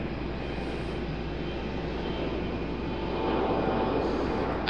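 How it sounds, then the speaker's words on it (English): An American Airlines jet pushes back at Raleigh-Durham airport for a flight to London Heathrow, its engines a steady, loud broadband roar that swells slightly toward the end. "American Airlines 174 is pushing back for its trip back to London Heathrow."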